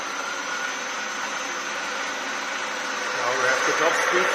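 A milling machine driven by a VFD runs with its cooling fans, giving a steady whirring, airy motor drone that swells a little louder near the end, with no voices.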